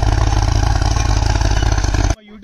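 A tractor pulls a harrow in third gear high at low RPM with a loud, close, continuous engine drone and clattering rumble. The sound cuts off abruptly near the end, leaving faint background noise.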